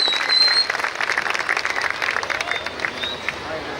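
Audience applause from a crowd at a public event, a dense, steady wash of many hands clapping that stays loud and close throughout, with slight swells near the start.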